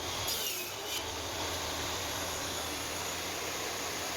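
A power saw cuts wood for a solid wooden window frame, a steady loud continuous whirring grind that holds throughout, close up with no talking.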